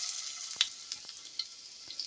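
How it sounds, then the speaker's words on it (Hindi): Garlic sizzles quietly in hot mustard oil, with a soft, steady hiss broken by a few sharp crackles and pops. "ये अब मैं इसमें ये लहसुन डाल रही हूँ"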